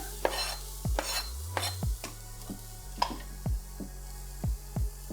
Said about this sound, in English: Add your seasoning mixture or your curry powder straight to the pan and just mix it around